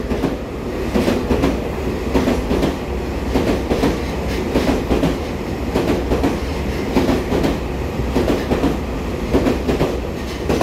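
A red-banded EMU3000 twelve-car intercity express passes through Ruifang station at speed, a loud continuous roar with rhythmic clickety-clack wheel beats throughout, close by, with no voices.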